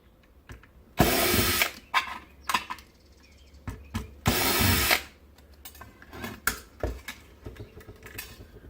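Screws being removed from a circuit board with a power screwdriver, giving loud whirring bursts of a second or less between clicks and handling rattles, close up and with no talking.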